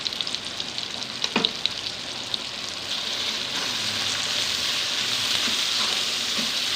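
Spices and five or six green chillies frying in a pan for a Pakistani ridge gourd curry, a steady hiss of sizzling oil that swells louder toward the end, with a few clinks of stirring early on.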